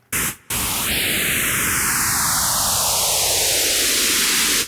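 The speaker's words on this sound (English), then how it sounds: "White noise, phaser." White noise run through a phaser effect: a loud steady hiss with a sweeping notch that glides slowly downward, after a short burst of plain noise at the start.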